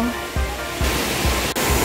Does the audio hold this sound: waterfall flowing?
yes